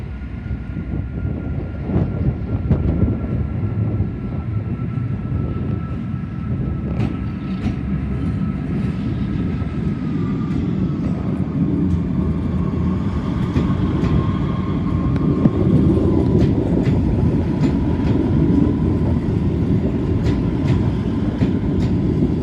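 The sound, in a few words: train passing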